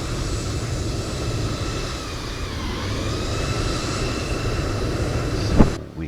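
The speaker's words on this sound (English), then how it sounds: "I think I will do my engine start right here" Cessna Citation Longitude jet engines spooling up in Microsoft Flight Simulator 2024, a steady loud whine and rumble holding throughout, with a brief sharp swell near the end before it drops away.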